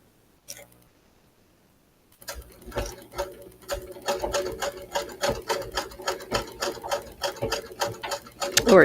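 Sewing machine stitching the channels of a corded corset, a quick rhythmic run of needle stitches that begins after a soft knock and pause and keeps up a close, steady chatter to the end.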